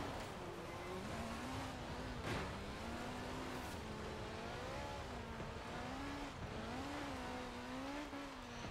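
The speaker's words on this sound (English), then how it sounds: "Oh, you can hear that Wankel engine." Rotary Wankel-engined car in the Forza Horizon 4 racing game, its high buzzy engine note rising and falling steadily through gear changes, loud and continuous with brief tire squeal.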